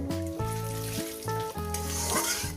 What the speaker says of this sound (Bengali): একটু তেজপাতা একটু জিরে পুরো দিয়ে দিলাম কয়েক সেকেন্ড ভেজে নেব